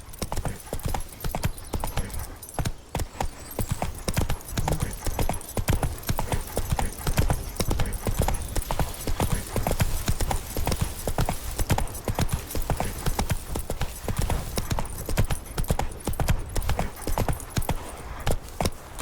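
Horse hooves clip-clop in a steady, rapid galloping rhythm throughout, close and continuous, with a faint whinny in the horse-riding scene of The Witcher 3: Wild Hunt video game.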